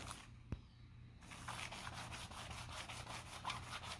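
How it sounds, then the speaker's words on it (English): A wooden table is rubbed down with 1000-grit sandpaper in a steady back-and-forth rasp, close and quiet, after a sharp knock and short pause at the start. "you would use 1000 sandpaper to get all these residues and make it all flat"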